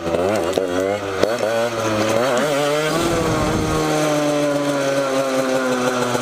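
A motorcycle revs hard during a wheelie attempt, its engine pitch rising and falling in quick surges before settling into a sustained high whine, loud and close.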